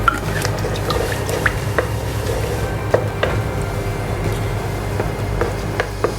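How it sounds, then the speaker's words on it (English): Water poured into a simmering meatball sauce in a pan, giving a soft liquid trickle with scattered drips and gentle stirring over a low, steady bubbling sizzle. "I've added around 1/4 cup of water."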